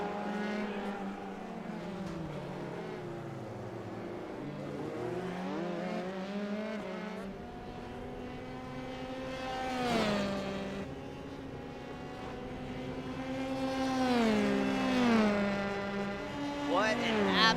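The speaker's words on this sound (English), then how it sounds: "It is your two race leaders, Jared Ziegler and Antonio Bianchi, charging very hard, running almost identical lap times here around the racetrack." Formula 3 cars from a racing game at the Long Beach street circuit: high-revving engines whine up and down through gear changes as cars pass, with a commentator talking throughout.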